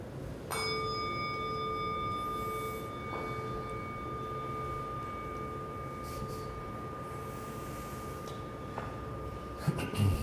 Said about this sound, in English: I'll ring the bell just to end this.